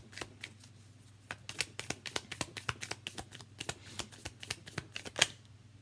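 Tarot cards shuffled by hand in a long run of crisp riffling flicks and soft slaps that quicken in the middle, close and fairly quiet over a low steady hum.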